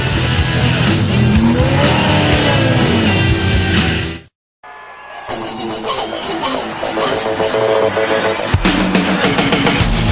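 A race car at the 2002 Checker Auto Parts 500 laps the track with a loud, sustained engine roar and tire noise, cut by a sudden brief silence before the roar returns at full volume.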